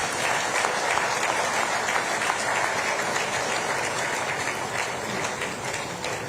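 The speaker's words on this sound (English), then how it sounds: "Let's give all those who have served this nation and still serving a big round of applause." A large audience applauds at a formal gathering honoring those who served the nation, a continuous, even wash of clapping from many hands that holds steady at moderate volume throughout.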